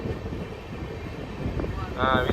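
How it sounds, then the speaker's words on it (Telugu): A Rajahmundry–Vijayawada MEMU train passes close by, heard from aboard the Prasanthi Express near Tadepalligudem, as a rushing rumble mixed with wind buffeting that swells toward the end, with a faint voice underneath. "తాడేపల్లిగూడెం దాటినాక ఒక ట్రైన్ వస్తుంది చూడండి, అదేమో రాజమండ్రి విజయవాడ మెము అనమాట."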